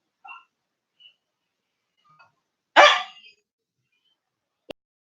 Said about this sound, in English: Why are you barking? Are you barking because I'm looking at you?